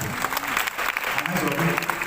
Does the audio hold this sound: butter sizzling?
no